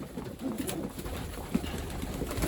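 Pigeons cooing in a loft while a breeder looks them over, with soft low coos repeating over a busy, rustling background.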